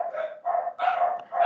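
A dog barks repeatedly nearby, four loud barks in a steady rhythm with short gaps, heard alone during an indoor lesson on urban environmental problems.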